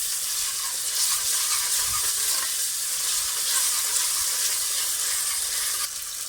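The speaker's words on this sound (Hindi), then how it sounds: "इसमें अब हम डालेंगे 2 चम्मच लहसुन के। इसको भी हम इसके साथ भून लेंगे।" Chopped garlic, two spoonfuls, frying in a pan with browned onion for a spinach and mash lentil curry, giving a steady close sizzle with stirring scrapes throughout and no talk.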